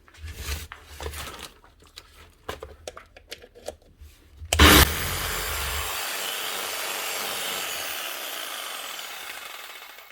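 A repaired Lidl Parkside PPHSS 730 jigsaw is handled with clicks and knocks, then switches on with a loud start and runs in a steady, close, high whirring buzz that slowly tapers.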